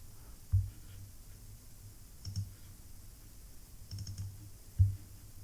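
A few sparse computer mouse clicks sound while QGIS is being started, each one soft, close and isolated. The clicks are spaced unevenly across quiet background hiss.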